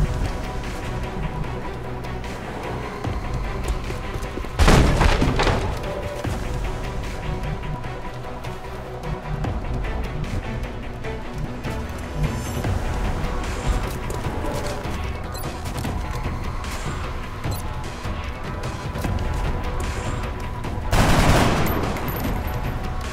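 Sustained gunfire from the XCOM Enemy Unknown video game, dense volleys rattling throughout with two heavier blasts standing out, loud and close, with little talk over it.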